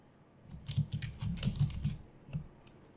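Fingers type on a computer keyboard while entering commands in a LaTeX editor, producing a short, close burst of quick, uneven key clicks with brief pauses between words.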